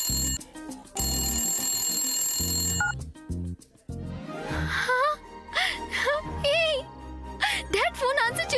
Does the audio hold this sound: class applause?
no